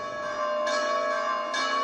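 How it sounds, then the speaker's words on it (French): Church bells in Rome ring in a sustained, resonant wash, with two stronger strokes standing out over the continuous hum of the peals. "ce sont les cloches des églises qui ont retenti pendant plusieurs minutes"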